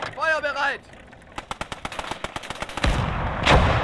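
A loud crack, then a rapid string of sharp gunshot reports, and a heavy blast boom near the end, from a Gates of Hell: Ostfront battle set in the invasion of Poland. A brief voice-like whine comes just before the shots.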